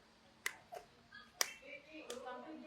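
A stroke patient pats or claps with her own hand, giving a few sharp, separate slaps spaced unevenly, quiet and close, with faint voices in the background.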